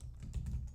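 Quick typing on a computer keyboard, several faint soft key taps in under a second, close but quiet over a low background hum.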